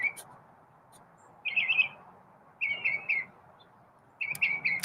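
A pet bird named Chirpy gives three short bursts of bright chirps and warbles, close by in a quiet room with a soft low background hum.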